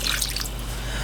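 Water pours into a crock pot packed with raw chicken breasts, a steady close liquid rush and drip running the full second without any talk.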